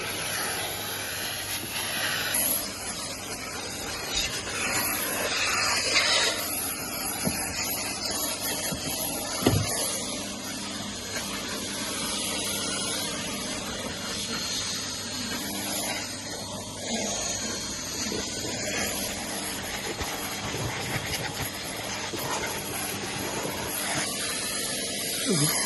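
A Henry vacuum cleaner runs inside a Toyota Yaris Cross, giving a steady, close airy hiss of suction with shifting scrapes and brushing as the nozzle moves over the interior surfaces.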